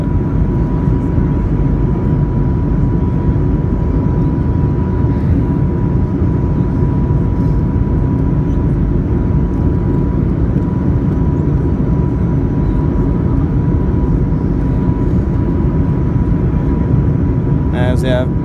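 Cabin of a Norwegian Boeing 737-8 on landing approach to London Gatwick, a loud constant low engine and airflow roar filling the interior, with faint voices in the cabin.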